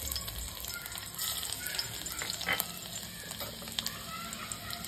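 Chopped garlic sizzling in a hot pan while a ragi (finger millet) soup is cooked: a quiet, continuous crackling fry with a few scattered pops, no talk.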